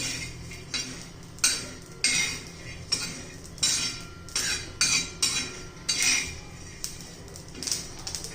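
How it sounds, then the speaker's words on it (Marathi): Sesame seeds roasting with peanuts on a hot tava crackle steadily, with a series of sharp, regular scraping bursts from stirring, close and fairly loud. "हे पहा, तीळ लगेच तडतड करायला लागले."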